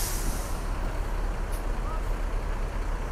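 A new MPM SR3 Panorama coach bus reverses in steady operation, its engine and air system producing a dense, continuous rumble with hiss that holds level throughout, with faint voices mixed in.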